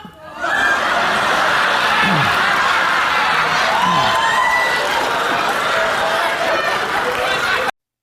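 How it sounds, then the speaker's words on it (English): A large crowd at a Donald Trump election event roars in a loud, continuous wash of cheering, shouting and whoops, with scattered voices rising above the din. "you heard and saw the reaction from the crowd"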